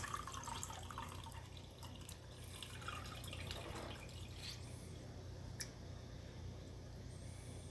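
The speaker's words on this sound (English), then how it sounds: "we want to just kind of let that drip out of there, but I kind of help the liquid go through there" Homemade fire cider liquid trickling and dripping through a strainer, faint and close, with soft irregular drips and a light watery trickle over low background hum.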